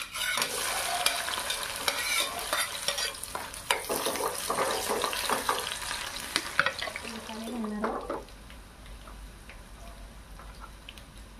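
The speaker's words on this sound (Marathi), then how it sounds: "तर आपलं तेल आहे आणि आपण आता लसूण आणि मिरची घालणार आहोत" Garlic and green chilies crackle and sizzle loudly in hot oil, a dense close spitting fry that settles into a quieter hiss after a few seconds.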